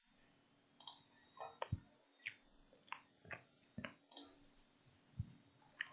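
Computer mouse clicks on a web page: a scatter of about a dozen sharp, dry, close clicks in an irregular rhythm over a quiet background, with no talking.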